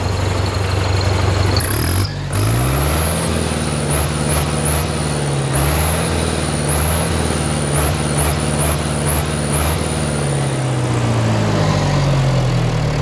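An IHC 844-S tractor running with its original exhaust while pulling a Ventzki three-furrow plow, a loud, steady engine drone close by with a brief dip early on and rhythmic high whines recurring through the run, no talk.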